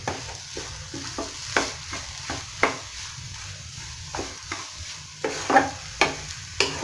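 Scrambled eggs with carrot and onion fry in a pan for a South Indian bhurji. A soft sizzle runs under repeated sharp spatula scrapes and taps against the pan, coming in an uneven rhythm.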